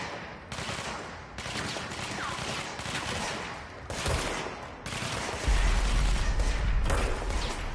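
Dense, sustained bursts of gunfire from the video game Control, with rapid overlapping shots and heavy impacts that swell louder toward the end, with no talk.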